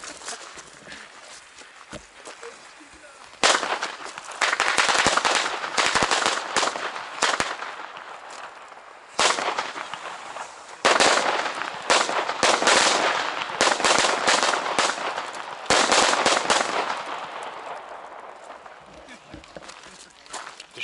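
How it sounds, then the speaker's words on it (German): Firecracker chains exploding on New Year's Eve, long bursts of rapid, loud crackling bangs separated by short pauses, with a voice talking faintly between the bursts. "Und die nächste Knallkette."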